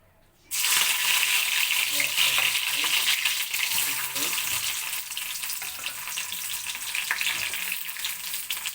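Loud, steady crackling and spitting of mustard seeds bursting in hot oil, starting abruptly and continuing densely throughout.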